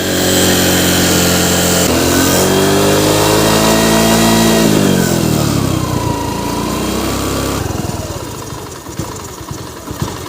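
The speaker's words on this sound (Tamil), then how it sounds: "வண்டி இன்னும் ரன்னிங் ஆகிட்டே இருக்குது" A TVS XL moped engine runs loud and steady with revving that rises and falls, then drops to a rougher, lower idle near the end, with no talking.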